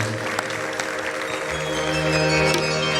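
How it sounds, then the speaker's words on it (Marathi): Sustained applause from the audience at a charity musical programme, a dense, steady wash of clapping that holds for the whole stretch and swells slightly toward the end, with faint tonal hum from the sound system underneath. "एकदा अभयदादासाठी जोरदार टाळ्या परत एकदा झाल्या पाहिजे"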